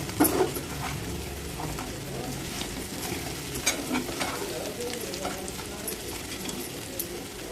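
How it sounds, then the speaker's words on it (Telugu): Fried cauliflower is mashed and mixed with masala in a pan, producing an even, close sizzle with intermittent scraping and tapping of the spoon against the pan. "ఇప్పుడైతే మొత్తం మ్యాష్ చేసుకుందాం మొత్తం పట్టించుకుందాం"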